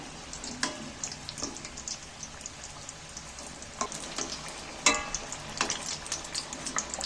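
Singaras sizzle steadily in hot oil in a kadai over a gas flame as they are turned one by one, with a constant crackling hiss broken by a few sharper splashes and clatters.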